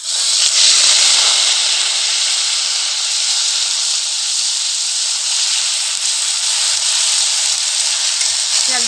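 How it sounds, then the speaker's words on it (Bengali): Onion paste sizzles and hisses loudly in hot oil with whole cumin seeds, a steady, bright frying roar that holds close and even throughout with no talk. "পেঁয়াজটাকে লাল লাল করে একটু ভেজে নেবো"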